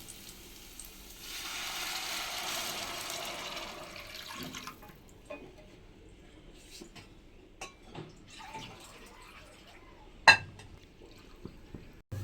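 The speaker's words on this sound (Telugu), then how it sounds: "ఇప్పుడు నేను వాటర్ అయితే పోసేసుకుంటాను" Water pours into a pan of fried semolina for upma for a few seconds, followed by quiet clinks and a sharp metallic knock.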